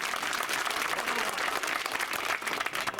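Crowd at an outdoor election rally in Tumen, Ashoknagar breaking into sustained applause, a dense, loud roar of many hands clapping continuously with a faint crowd murmur beneath.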